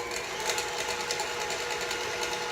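An electric mixer whirs steadily at close range as it creams softened butter for a maple frosting, a continuous buzzing drone with no voices.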